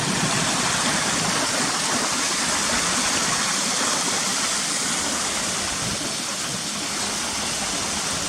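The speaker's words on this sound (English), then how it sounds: "looking down the waterfall there, back down towards the main waterfalls around the corner there in the gully" Waterfall and mountain stream at Cautley Spout, a steep gully of cascades, roaring as a steady, loud, unbroken wash of rushing water from close by, with no voices.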